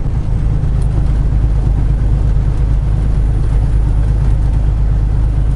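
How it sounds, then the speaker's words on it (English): A 2020 Kenworth T680 truck engine drones steadily and loudly from close by, a heavy low rumble with no pause or change and no talking over it. "Oops, missed my gear there."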